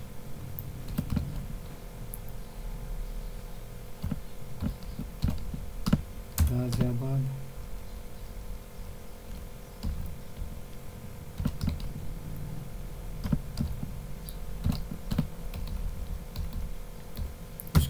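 Typing on a computer keyboard during an HTML forms lesson, with scattered key clicks in short bursts at close range over a low background hum.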